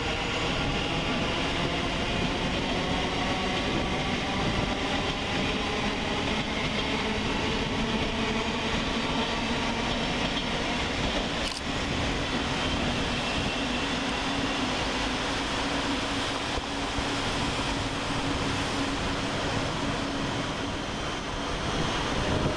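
A Class 700 Thameslink train pulls out of Luton station, a steady broad rumble and rushing roar at moderate distance that holds level throughout, with a faint rising motor whine and a brief sharp clank midway.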